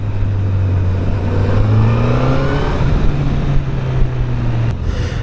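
Honda CB1000R motorcycle engine accelerating on a test ride, a steady loud engine note rising in pitch through gears with some wind noise, close and continuous.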